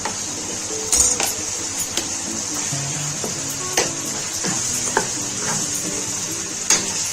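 Minced keema and chopped tomatoes fry with a steady sizzle in a pan on the stove, while a spoon scrapes and stirs the mixture in occasional sharp knocks against the metal throughout.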